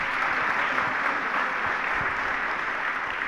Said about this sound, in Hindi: सब ताली बजा करके स्वीकार कीजिए